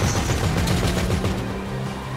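Rapid bursts of gunfire ring out in Grand Theft Auto V Online during a multiplayer free-for-all battle. The shots come loud and dense, some overlapping like automatic fire, over about two seconds.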